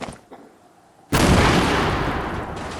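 A sticky bomb detonates in the video game Fortnite, a single loud, sudden blast that cuts in after near silence and rolls on as a broad, sustained rumble for more than a second.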